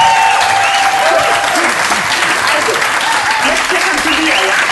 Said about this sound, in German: nochmal Applaus